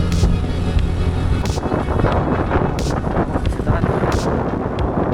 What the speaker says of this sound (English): the wind is blowing this to this side